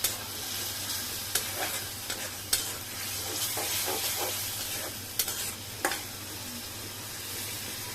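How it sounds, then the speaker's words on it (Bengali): Onions sautéing in a pan for shrimp and taro greens, a steady close sizzle with a spatula scraping and tapping the pan every second or so. "এখন ভালো করে কষাই নেই, তারপর মাছগুলো দিব।"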